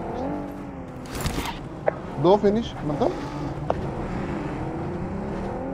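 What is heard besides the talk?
vehicle driving in video game BGMI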